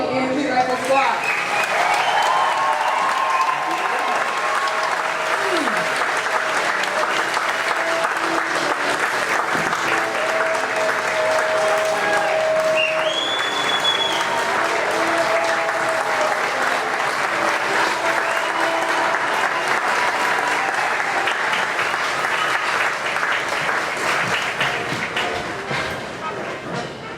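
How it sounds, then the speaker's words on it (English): Large audience at a Fort Benning Army infantry graduation ceremony applauding a rifle squad, sustained loud clapping spread across an outdoor crowd, with scattered shouts and whistles on top before it starts fading near the end. "Ladies and gentlemen, please join us in a round of applause for the United States Army Infantry Rifle Squad."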